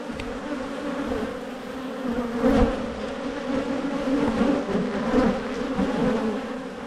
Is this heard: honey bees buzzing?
yes